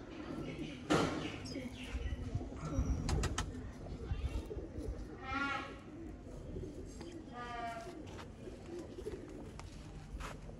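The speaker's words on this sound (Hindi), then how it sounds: "और ये दोस्तों कबूतर है" Pigeons in a breeder's loft coo in soft rolling calls over a busy background of rustling and shuffling, fairly quiet and close.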